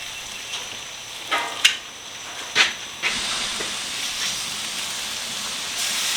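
Bacon fries in a pan with a loud, even hiss of spitting fat that swells after a few brief bumps and clatters near the start, heard up close without speech.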